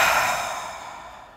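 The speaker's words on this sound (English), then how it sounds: "And you always start off with that deep cleansing breath." A deep cleansing breath during a relaxation exercise, one long close exhale that starts loud and fades gradually.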